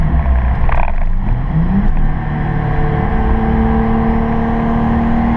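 A 1JZGTE engine in a Toyota Supra pulling in third gear during a street tune, a steady loud drone whose pitch climbs as the revs rise, then holds, heard from inside the car without talking.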